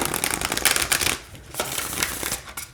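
Close riffle shuffling of a deck of mediumship training cards, a dense flurry of papery flicks that eases off, then a few lighter card riffles.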